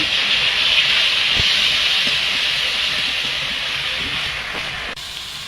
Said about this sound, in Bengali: তেলটা গরম হয়ে গেছে, আমি পেঁয়াজ বাটাটা দিয়ে দেব